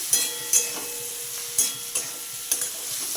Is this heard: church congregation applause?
no